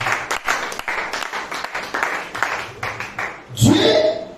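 A church congregation applauds and cheers God at a pastor's sermon, with scattered clapping bursts under a preacher's voice, building to a louder swell of cheering near the end.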